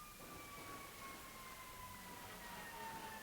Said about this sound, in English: a fucking ambulance is passing by.